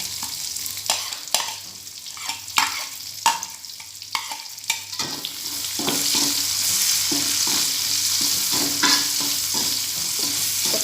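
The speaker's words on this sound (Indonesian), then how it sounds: "Kita goreng dulu bawangnya." Shallots fry and sizzle in a hot pan for a Balinese chicken dish, with a steady hiss building after a few seconds and repeated scraping clacks of a utensil stirring them throughout.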